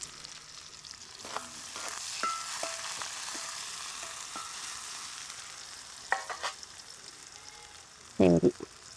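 Onions fry in hot coconut oil in a pan, a soft steady sizzle with occasional stirring clinks and scrapes, plus a brief louder clatter near the end.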